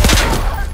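A short loud burst of rapid automatic rifle fire crackles in a shooter video game, a fast fusillade of shots over less than a second.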